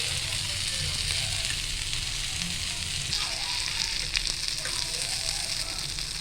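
Bagha fish frying crisp in a pan, a steady, dense sizzle with bright crackling that holds evenly throughout, close and loud with no talking.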